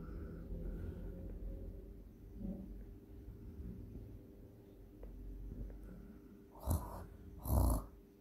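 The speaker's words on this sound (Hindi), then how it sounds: "पापा कितने खर्राटे मार रहे हैं।" Slow, low rasping breaths repeat quietly through a dim room, with two louder snorting bursts near the end.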